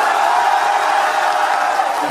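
An audience cheers and applauds in a steady wash of crowd noise, with no single voice standing out.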